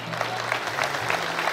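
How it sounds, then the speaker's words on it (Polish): A stadium crowd applauds steadily as a departing goalkeeper is sent off by Wigry Suwałki supporters, the clapping dense and continuous, with a faint hum running underneath. "Proszę, brawa!"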